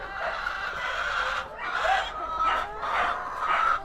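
Pet hens cluck steadily at feeding time, with a close flock giving repeated rising calls in a loose rhythm and no talking.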